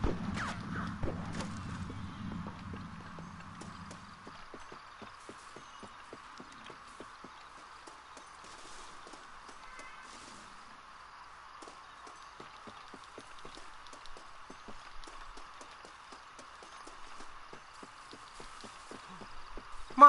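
Horse hooves clip-clop in Red Dead Redemption, a faint, steady run of hoofbeats over a constant hum, with a louder rumble at the start and no talk.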